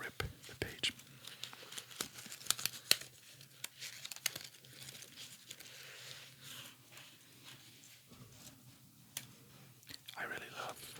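Soft crinkling and peeling of sticky tabs lifted slowly off a Penguin paperback page: faint, close rustles and small tearing sounds under hushed whispering.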